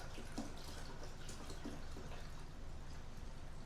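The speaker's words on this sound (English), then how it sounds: "we're going to go ahead and transfer it back into here with the rest of our water" Hot water poured from a container into a pot of water for a pork brine, a steady continuous splashing and trickling stream, close and fairly quiet, with no talking.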